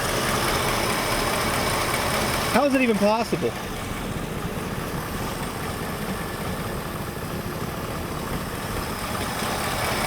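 Engine of an old Ford Mustang Cobra idling steadily after sitting abandoned for 27 years, a continuous low rumble that runs under a brief spoken remark.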